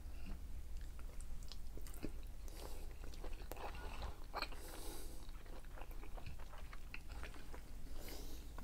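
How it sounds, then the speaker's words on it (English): Close, steady chewing and biting of cooked string beans served alongside tender steak and mushrooms, a continuous moist crunching with small clicks at even loudness throughout and no talking. "let's taste the string beans"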